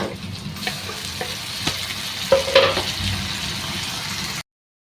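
Three large chopped tomatoes tossed onto sautéed onions in a frying pan, a steady close sizzle with a few stirring scrapes and clatters partway through before it cuts off.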